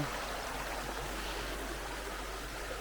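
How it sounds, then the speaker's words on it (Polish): Steady broadband rush of a fast-flowing river current, a continuous close wash of moving water with no voices over it. "No nurt dość, nurt dość bystry."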